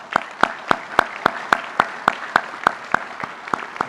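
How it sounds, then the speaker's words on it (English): Applause from an audience at a 2018 NTHS induction ceremony: sharp, evenly spaced claps that fall into a steady rhythm of about three or four per second, fairly loud and close, with no talking. "I'd like to give them a round of applause."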